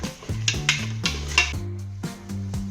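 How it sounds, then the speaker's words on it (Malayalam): Ground tomato paste sautéing in a pan for an easy kabsa, with repeated rhythmic scrapes and taps of a spoon against the pan over a soft, low sizzle. "തക്കാളി അരച്ച് വെച്ചത് കൂടെ ചേർത്ത് തക്കാളിൻ്റെ പച്ച ഒരു ആ വാസനയൊക്കെ ഒന്ന് പോകുന്നത് വരെ വഴറ്റി കൊടുക്കാം"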